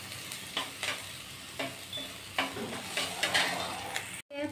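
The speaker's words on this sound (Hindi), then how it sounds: "अभी प्याज हरी मिर्च अच्छी तरह से फ्राई कर लूँगी।" Onion and green chili frying in oil in a kadai, a soft continuous sizzle broken by regular scraping strokes of a spatula stirring, with a brief dropout near the end.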